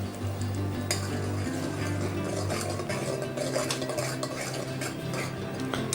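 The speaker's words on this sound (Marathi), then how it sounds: "आता आपण जे वाटण बनवलं होतं खोबऱ्याचं व कांद्याचं, ते याच्यात टाकून घेऊया आणि छान असं परतून घेऊया" Coconut and onion paste sautéed in oil in a pan for a Maharashtrian mutton curry, heard as continuous stirring and scraping with a utensil against the pan, soft clinks, and a low sizzle throughout.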